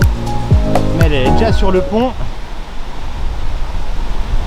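A small waterfall in Alsace, heard as a steady broadband rush of falling water, moderately close, running beneath people talking in the first half and alone afterward.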